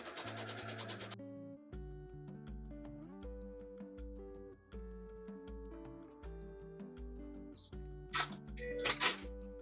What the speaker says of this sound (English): I'm just going to sew the batting on to the right of each one of these squares